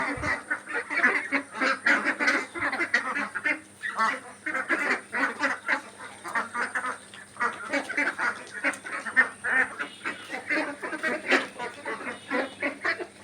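A flock of grown domestic ducks kept with little water quacks continuously and loudly nearby, in dense overlapping bursts of harsh honking calls that barely pause for the whole stretch.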